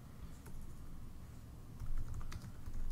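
Typing on a computer keyboard, faint scattered key clicks in short bursts over a quiet room hum, fairly close.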